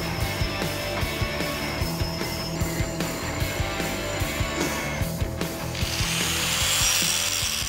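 Thick metal being cut by hand during a 1972 Mercury Marquis build, a loud steady rasping stroke repeated at an even rhythm, with a brighter hiss building near the end.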